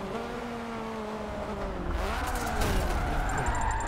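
A hot hatch drifting on a track, its engine droning steadily as the tires slide and scrub, the engine note rising and the noise swelling louder toward the end.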